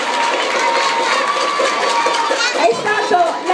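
Audience at a student poetry and storytelling event breaks into sustained cheering and crowd noise, a loud continuous roar of voices and shouts over the whole stretch, with no distinct clapping pattern standing out.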